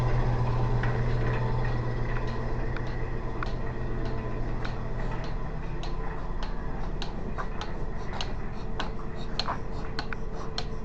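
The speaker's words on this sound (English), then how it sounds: "that's my surge pump" A milking machine surge pump pulsating during cow milking, giving a steady regular ticking beat over a constant mechanical hum.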